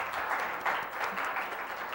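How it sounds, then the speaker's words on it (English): An audience at a conservation lecture about the Armenian viper gives a short burst of steady, even applause before the talk begins. "let's have the Herp team give Jeff a round of applause"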